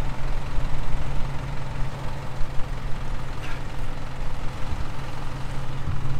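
An off-road truck's 4.0 engine fitted with a stroker crank idles nearby with a steady, low, rumbling drone that stays constant without revving.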